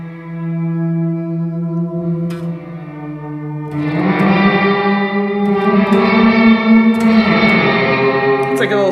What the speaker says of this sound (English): Obviously it has reverse reverb